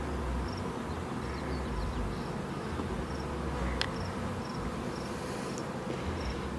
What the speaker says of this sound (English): And a few bees wanting to come find her.